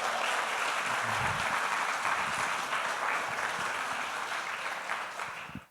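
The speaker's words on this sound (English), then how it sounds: "That deserves an applause, I gotta say." A business audience in Marbella breaks into dense, continuous applause that holds steady and loud, then drops off sharply at the very end.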